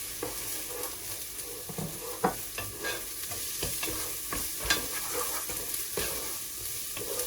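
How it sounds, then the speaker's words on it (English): Carrots are stirred into a pot of Bosnian beef goulash, with frequent close scraping strokes over a continuous sizzle, moderately loud and with no voices. "So now I put carrots here."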